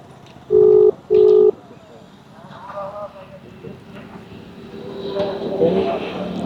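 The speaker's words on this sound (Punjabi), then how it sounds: "ਫਿਲਹਾਲ ਐਸਡੀਐਮ ਸਾਹਿਬ ਨੇ ਫੋਨ ਨਹੀਂ ਚੁੱਕਿਆ" Phone call to an official going unanswered: two loud electronic ring tones in quick succession, followed by outdoor crowd chatter and murmuring voices in the background.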